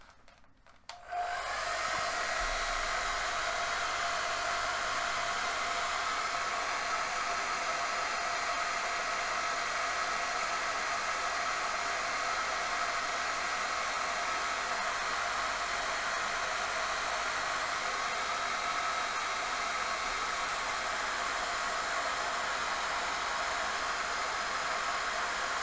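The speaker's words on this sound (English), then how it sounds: "hairdryer out." A hair dryer switches on after a brief moment and runs steadily with a loud, constant whooshing hum that stays unchanged to the end.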